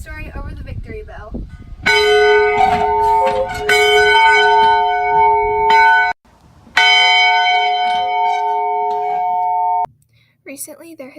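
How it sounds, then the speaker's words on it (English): A school victory bell rings loudly in two long sustained bursts of steady clanging tones, separated by a brief gap, with speech heard before and after. "Recently, there has been a controversy between the football players and the softball players about the ringing of the victory bell."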